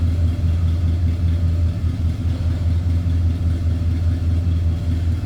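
Steady low rumble of a 1972 Pontiac Grand Ville convertible's 455 V8 idling close by, an even, continuous engine note with no talk over it.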